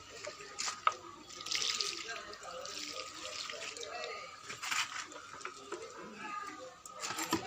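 Water splashes and trickles as it is poured onto potted plants in a home garden, an uneven run of pours and drips at close range, with a voice speaking now and then.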